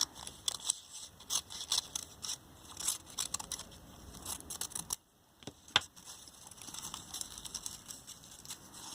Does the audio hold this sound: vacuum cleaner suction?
no